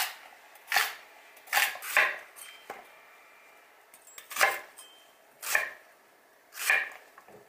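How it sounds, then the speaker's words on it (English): Knife roughly chopping vegetables on a cutting board, for a braising liquid for boneless beef short ribs: about seven separate sharp chops with irregular pauses between them, close up and clear, with no talking. "So let's chop up our ingredients and be right back."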